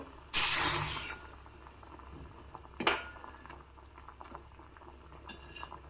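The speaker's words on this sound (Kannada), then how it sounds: "ಹುಳಿ ಕುದೀತಾ ಇರೋವಾಗಲೇ ಒಗ್ಗರಣೆ ಹಾಕ್ತಾ ಇದ್ದೀನಿ ನಾನು" Huli, a tamarind curry, boiling in a pot right after hot tempering is added: a loud sizzling hiss bursts up and fades within a second, a metal clank follows, then low bubbling continues.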